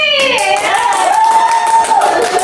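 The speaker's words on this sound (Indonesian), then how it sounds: "tepuk tangan kelompoknya Anggi" A classroom of pupils claps for a classmate's group, quick close clapping under bright sustained children's voices that hold a rising and falling tone throughout.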